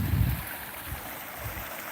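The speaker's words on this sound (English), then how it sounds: "this is more than a babbling brook now" Swollen babbling brook rushing along, a continuous wash of flowing water with a few deeper surges, steady and fairly close, with no talking.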